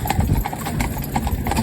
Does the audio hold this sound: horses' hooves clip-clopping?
yes